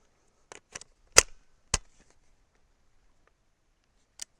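Suppressed 300 Blackout rifle firing powder coated bullets, five sharp muted reports in an uneven sequence with a pause before the last, each brief and close.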